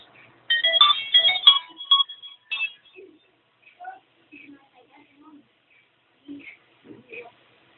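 An Android phone plays a short, bright chiming startup tone while rebooting, then a few faint, scattered blips follow in near silence.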